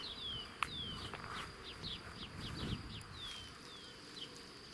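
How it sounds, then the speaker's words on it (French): Bees buzz softly around hawthorn flowers outdoors, a low continuous hum with birds chirping lightly in the background. "En ce moment, les abeilles butinent les jolies fleurs des aubépines."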